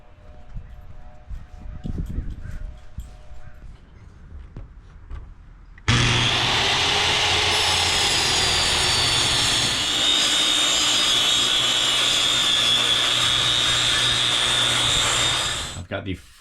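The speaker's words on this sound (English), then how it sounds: "let's cut some wood" Power saw cutting wood while building a coffin: a loud, steady whining roar starts abruptly after quieter workshop sounds and holds for about ten seconds before stopping.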